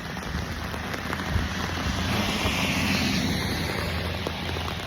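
Heavy rain pouring down in the city, a dense, loud, unbroken hiss with spattering drops close by and a low wind rumble beneath, steady throughout.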